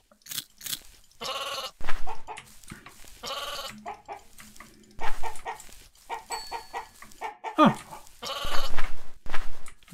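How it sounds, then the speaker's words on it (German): Blocky game sheep bleating in MineClone2, a Minecraft-like game, mixed with clucking chickens; several short bleats and clucks come at irregular moments over about ten seconds, fairly close and clear. "das eine Schaf ist zum Glück hier vorne geblieben, direkt"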